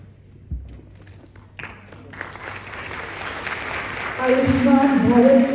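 Applause from an audience at a government health ceremony honouring a five-year-old girl, starting with a few scattered claps and swelling into loud, sustained clapping from a large crowd.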